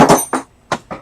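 A hammer strikes metal four times in an uneven rhythm during work on an MGB rear axle, with close, loud, sharp blows.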